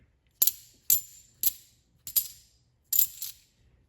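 Several coins drop one after another through a hand, each giving a bright metallic clink with a short ringing tail, spaced unevenly against a quiet background.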